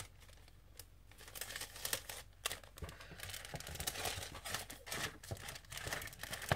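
A handmade folded paper card slid into a paper envelope, heard close but quiet as a run of crisp crinkles, rustles and small papery taps and scrapes.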